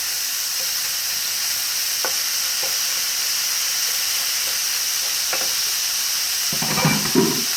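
Two pounds of ground chuck browning in a pan, giving a steady close sizzle and hiss with a few faint scrapes of stirring, then a louder clattering burst near the end.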